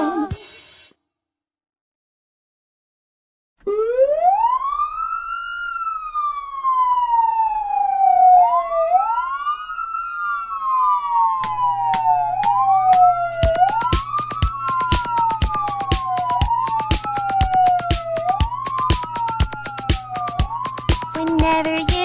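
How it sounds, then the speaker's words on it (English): An ambulance siren wails with a loud, rising-and-falling sweep repeated about every two seconds, then a rapid pulsing clicking and a low steady hum join underneath it. "Whenever you hear this sound, you know an ambulance is around."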